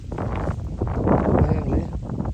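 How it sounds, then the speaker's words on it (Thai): Wind gusts rush steadily past the microphone outdoors on a dirt bike tour, a broad continuous roar that swells in the middle and never lets up across the short stretch. "ลมพัดดีด้วยว่ะ"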